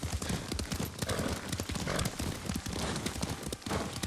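Horse hooves clop in a fast, steady gallop while riding in Ghost of Tsushima, loud and close with dense rhythmic thuds throughout and no voices.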